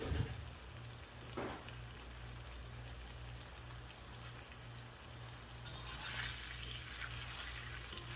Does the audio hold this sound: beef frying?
yes